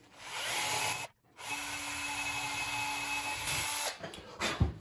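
A power drill whirs steadily, stops briefly, then spins up again to bore holes through a wooden speaker board for an Ohm Walsh 2 speaker, close and fairly quiet, with no voices.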